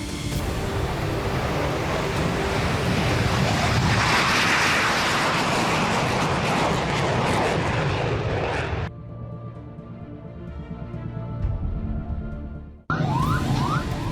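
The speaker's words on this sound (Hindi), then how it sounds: "इजरायली एयरफोर्स के F-16 और F-35 फाइटर जेट्स स्ट्राइक के लिए तैयार हुए और फिर एक एक करके ये फाइटर जेट्स यमन में हूती आतंकियों पर बमबारी करने के लिए उड़ लिए" Israeli Air Force F-16 and F-35 fighter jets take off for a strike, a loud, sustained roaring jet blast that thunders for several seconds, cuts to a quieter rumbling stretch, then bursts back in at full force.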